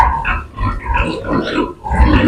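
Low, snuffling grunts from several piglets overlap continuously at close range, rising and falling in loudness.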